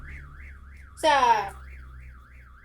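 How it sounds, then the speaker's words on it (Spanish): A car alarm sounds outside, its rising-and-falling siren steady and moderately distant, briefly overlapped by a short loud voice or squawk indoors, with a low hum underneath. "el ruido de la alarma del carro"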